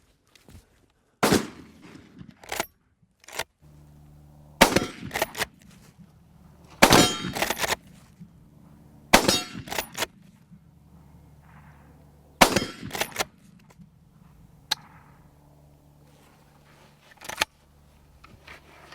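Sharp rifle reports from a Blaser R8 with a red dot sight, fired on an outdoor range in fog, crack out one at a time at irregular intervals, loud and close, with low rumbling background between shots.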